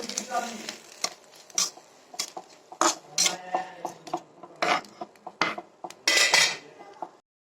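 A metal utensil scrapes and clanks repeatedly against a pan in an irregular rhythm over a light sizzle of shrimp frying with salt.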